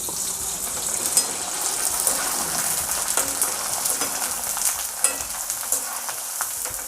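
Omapodi vadam frying in hot oil gives a steady, dense bubbling sizzle with small crackles and pops throughout, close and continuous, with no voices.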